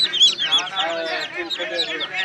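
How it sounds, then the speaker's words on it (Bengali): Chinese ducklings at a poultry market give a dense, overlapping chorus of high peeping calls, close and fairly loud, mixed with nearby voices. "চমৎকার চীনা হাঁসের বাচ্চা কিন্তু নিয়ে আসে"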